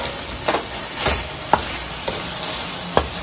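A tablespoon of ginger garlic frying with vegetables in a pan, a continuous sizzle broken by periodic scraping strokes of a stirring utensil, up close.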